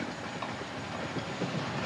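A train rumbles along the rails with a dense, continuous clatter and low rolling noise. It sounds close and steady, with no voices over it.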